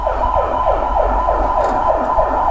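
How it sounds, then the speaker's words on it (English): An emergency vehicle siren wails loud and close in a fast, repeating yelp pattern of rising and falling sweeps over a low engine rumble. "Listen to the siren."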